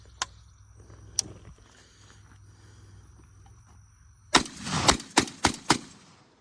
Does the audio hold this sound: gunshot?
yes